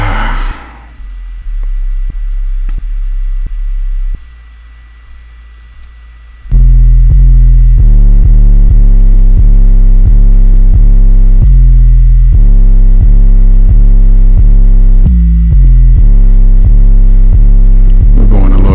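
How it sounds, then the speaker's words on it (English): Heavily distorted, bass-heavy beat programmed on an Akai MPK Mini MK2 and MPC Essentials, with a thin, subdued opening before a loud, dense pulsing groove kicks in and drives steadily to the end. "We're going a little heavy on the distortion, ain't we?"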